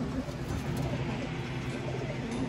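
Pigeons cooing in a loft, soft low repeated coos over a constant background hum, faint and steady with no clear pauses.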